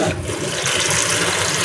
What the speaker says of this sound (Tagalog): Dito na natin siyang hugasan para diretso yung tubig.